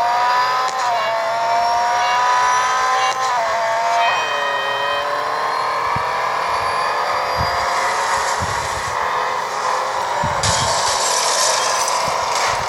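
Ferrari racing car engine at Le Mans in the video game Real Racing 3 whines and revs continuously, pitch climbing and dropping with sharp cracks at each gear change, loud and close, with no talking.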